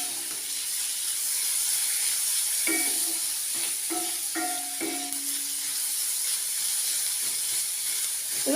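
Garlic sautéing on a medium flame for tomato chutney makes a steady hissing sizzle close by, with a few brief metallic clinks and scrapes of stirring in the middle.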